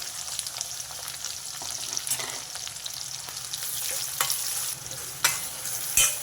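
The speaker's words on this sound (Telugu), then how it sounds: "మనం సన్నగా కట్ చేసి పెట్టుకున్న ఉల్లిపాయలు వేసేసుకున్నా" Thinly sliced onions fry in a pan with whole spices, cloves and cardamom, for a mushroom masala curry, sizzling steadily with sharp stirring clicks and scrapes that grow louder toward the end.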